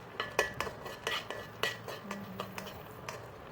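Cashews roasting in a pan for rava laddu and stirred with a metal spoon, giving light clinks and scrapes against the pan in an uneven rhythm, close but fairly quiet, with no speech.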